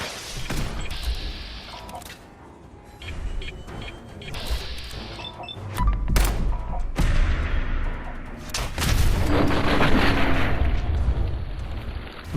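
Gunshots and booming blasts from the game Fallout 4, a series of sharp broadband bursts with rumbling tails spread across the clip, loud and close, with no talking.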